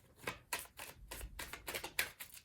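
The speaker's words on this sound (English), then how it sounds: "Let me just shuffle" Tarot cards are shuffled quietly and close by in a quick run of about eight soft riffling bursts, evenly spaced.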